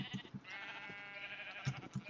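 Burning sheep in the video game Minecraft bleat in short repeated cries, with several overlapping bleats spaced irregularly across the moment at a soft, moderate level.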